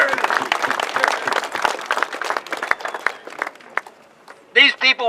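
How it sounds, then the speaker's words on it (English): Crowd applause at a property tax elimination rally, dense clapping filling the room for several seconds before thinning out, followed by a few louder bursts of voices near the end. "So give yourself a round of applause"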